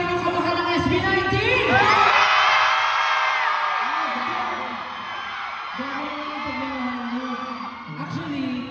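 A large crowd at a world tour concert screams and cheers loudly and continuously, with high shrieks and whoops that swell and then ease back slightly, while an amplified voice speaks over the noise.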